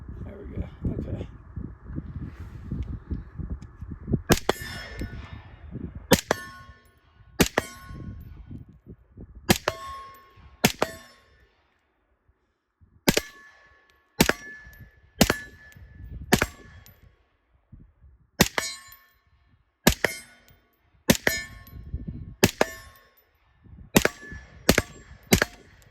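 Rifle shots ringing off steel targets at a precision range with a thermal scope and offset red dot, about a dozen sharp cracks each followed by a metallic clang, spaced irregularly over low background rumble.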